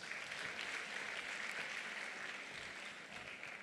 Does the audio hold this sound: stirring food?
no